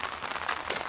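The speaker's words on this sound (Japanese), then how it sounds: "今降り始めた雨で見えんことになったの" Rain starting to fall outdoors by the water during a fishing walk, a dense, steady patter of drops on surfaces, close and fairly loud, with no talking.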